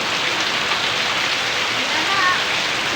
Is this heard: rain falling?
yes